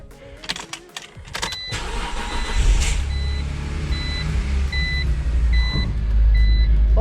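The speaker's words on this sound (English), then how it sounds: "start and run your car for a couple minutes once you put the fuel in" A car engine cranks and catches inside a garage, then settles into a loud steady idle, with a repeating electronic chime sounding over the running engine.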